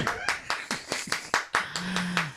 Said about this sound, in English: Oh, let's clap.